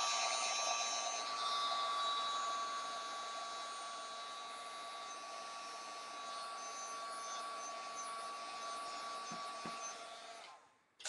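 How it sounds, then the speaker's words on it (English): A heat tool blows hot air to set glue on a mixed media craft tag, a steady whining fan drone with a high tone that holds for about ten seconds before cutting off, no speech. "I'm going to give this a quick heat set."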